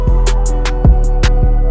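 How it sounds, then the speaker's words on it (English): Beat in FL Studio with soft clipping applied: heavy sustained bass and kick thumps under crisp hi-hat and snare hits, dense and loud with no voices. "So soft clip's going to sound like this."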